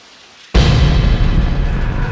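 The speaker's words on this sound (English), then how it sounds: "Is it rain? It's the shower." A shower running in Deadly Premonition Origins, sounding like rain: a hiss switches on abruptly after a half second of near silence, then continues as loud, steady, broadband spray noise with no voices.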